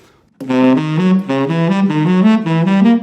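A lone melodic instrument plays diminished triads built on each degree of the diminished scale, the arpeggiated notes rising in quick, even groups after a moment of silence.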